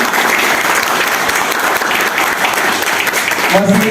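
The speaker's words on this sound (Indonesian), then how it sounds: "Tepuk tangannya mana?" Loud, dense applause from a seminar audience on public speaking, filling the whole stretch with steady clapping and crowd noise, and a voice briefly surfacing near the end.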